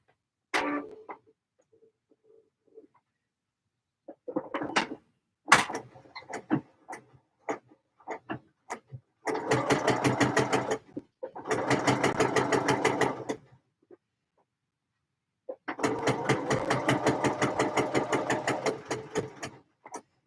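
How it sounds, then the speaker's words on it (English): Several short bursts of a sewing machine stitching a collar, rapid even needle clatter running for a few seconds at a time, separated by quiet pauses and handling clicks. "Let's get this collar sewn."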